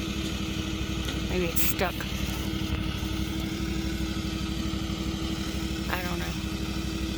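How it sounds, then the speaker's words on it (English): A riding lawn mower engine runs steadily, a constant rough mid-pitched drone with a throbbing pulse, while a voice talks briefly over it and occasional short bird chirps come through. "I think he's crazy for using that mower to pull things around"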